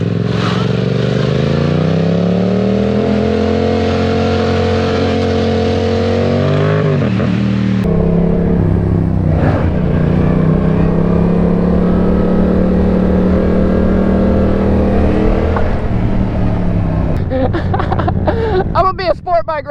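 Loud and close, a 2022 Yamaha R7 sport bike engine revs and climbs in pitch, drops with a shift, then pulls up again, ending in rattly clatter; brief voices may sit under the engine.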